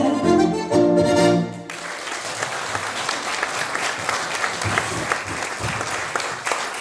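Audience applause at a charity concert, a full burst of clapping that starts abruptly after music and continues steadily for several seconds, dense and close with crowd noise.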